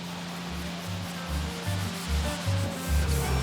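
Close, rhythmic scrubbing on a car windshield to strip off an oily film, a gritty rub repeating in quick back-and-forth strokes that grow slightly louder toward the end.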